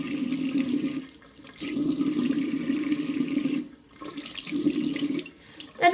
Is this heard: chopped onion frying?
no